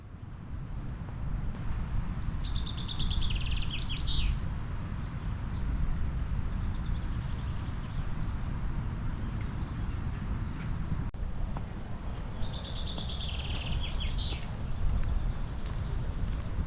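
Birds chirp and trill in several short phrases, fairly distant, over a steady low rumble of outdoor background noise, in Normandy, France.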